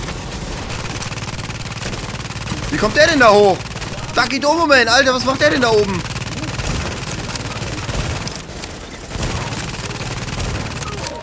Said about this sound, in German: Immer schön auf die Tanks ballern, Leute.